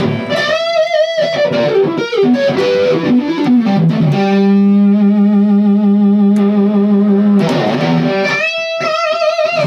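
An electric guitar played with the fingers, not a pick, with a distorted, effects-laden tone plays a melodic line, holding one long ringing note in the middle before the phrase picks up again.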